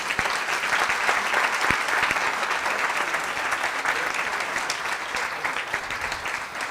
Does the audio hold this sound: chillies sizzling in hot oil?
no